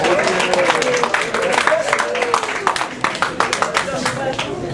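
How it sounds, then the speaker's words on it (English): An audience claps for itself in a seminar setting, scattered hand claps thinning out into separate claps while a voice talks over them. "give yourselves a round of applause"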